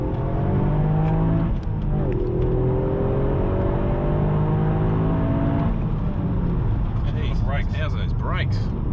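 A Toyota GR Yaris accelerates hard, its engine note climbing steadily in pitch across several rising sweeps, loud and close with a steady mechanical roar throughout.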